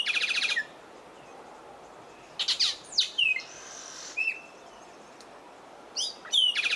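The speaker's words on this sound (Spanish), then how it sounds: "Y por último, escogí al tordo." Thrush song phrases, clear and fairly close, come in short bursts of whistled and trilled notes separated by pauses, sung alone against quiet background.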